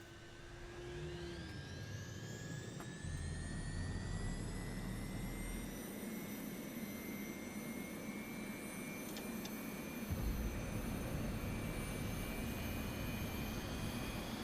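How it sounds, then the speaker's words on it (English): A Mirage 2000 fighter's jet engine spools up in the DCS World flight simulator, a continuous roaring whine with tones climbing steadily in pitch over fourteen seconds, loud and unbroken, with no talk. "The engine's spooling up nicely."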